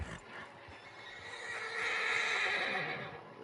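A horse in the video game Red Dead Redemption 2 gives a long, loud whinny, with a steady rumbling hum beneath it and no voices.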